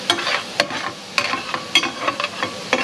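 A sizzling pan with wine added to deglaze while cooking a copycat version of Kahuku garlic shrimp gives off a steady hiss, broken by sharp crackles and pops as the food is stirred.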